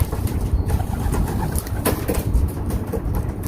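Pigeons coo in soft, repeated low calls close by at a cage, over a rumbling background.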